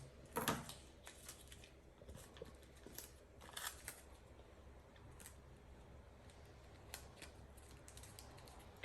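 Scissors cut through tape while a DIY fidget is being made, giving a few faint, close snips and clicks spaced irregularly over a quiet background, without talking.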